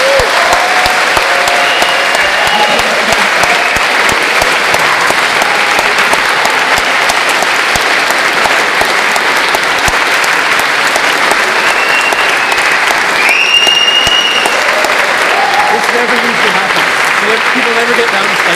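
Sustained loud applause from an audience at a Q&A with a rapper at Trinity College, Dublin, steady clapping filling the room for the whole stretch.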